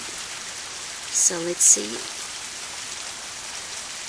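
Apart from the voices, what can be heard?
rain falling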